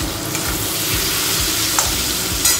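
Tomatoes frying in a pan with spinach, a steady close sizzle with light stirring scrapes throughout, no one talking.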